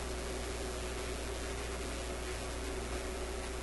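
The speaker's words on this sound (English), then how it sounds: "we should hear that familiar FM hiss" Steady broadband hiss of FM radio static from a European vacuum tube radio, with a faint low hum beneath, constant and even throughout, no voices.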